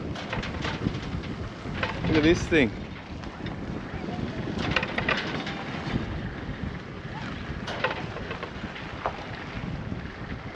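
Strong wind at an outback dam in Queensland buffets and roars across the microphone in gusts, loud and constant, with a brief spoken remark partway through.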